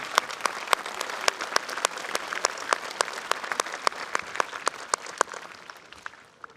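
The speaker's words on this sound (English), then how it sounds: "If we could please give a round of applause to our administrative staff." A room full of people at a high school graduation ceremony applauds steadily, sharp claps blending into a sustained, fairly loud ovation that tapers off at the end.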